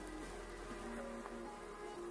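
Honeybees buzz around a hive being split, a soft steady droning hum of many insects at low level throughout.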